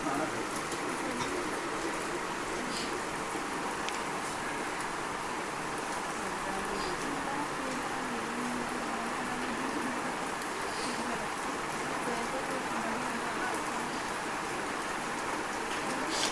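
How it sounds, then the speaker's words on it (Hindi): Heavy rain falls outside as a constant, dense hiss that stays even from start to finish, with no clear voices over it. "क्योंकि बहुत बारिश हो रही है।"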